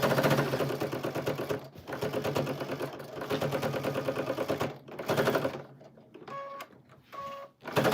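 Sewing machine tacking down several quilt layers on a trapunto-style Christmas tree quilt, a loud, close, rapid stitching chatter in long runs broken by short pauses, then slower intermittent stitches near the end.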